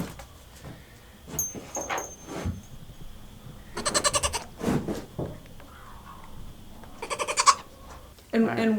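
Goats bleating on a homestead, several loud wavering bleats in separate bursts close by, with quieter rustling, bird-like chirps and scattered background noise between them.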